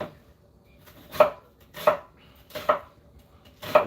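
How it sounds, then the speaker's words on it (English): A knife chops an onion on a board in four evenly spaced, sharp strikes, close and distinct against a quiet background. "It's always so sad to chop up the poor onion."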